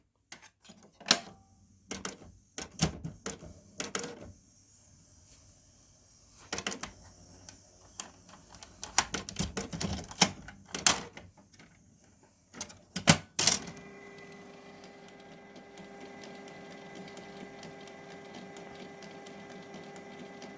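A Canon Pixma MG3650 inkjet printer powers on with a series of irregular clicks and mechanical clunks, then settles into a quiet steady whir.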